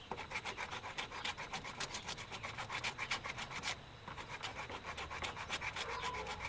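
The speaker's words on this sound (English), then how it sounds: "we're going to take a sanding block and we're just going to take this and sand this off." Steady back-and-forth rasping of a sanding block on a 1993-02 F-Body roof panel, rapid regular strokes with a brief pause midway, close and continuous.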